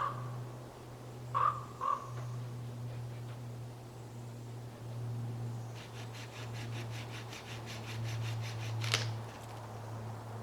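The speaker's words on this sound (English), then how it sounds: "Can you hear the ravens?" Ravens call outdoors in a few harsh croaks, a close pair early on and another sharp call near the end, over steady low background hum and rustling.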